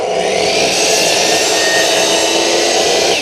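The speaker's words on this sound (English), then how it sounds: "The great thing about a chop saw is you get a nice mitered, angled, perfect cut." A chop saw makes a 45-degree miter cut through door trim, giving a loud, close, unbroken whine and rush of the blade that holds steady throughout with no voices.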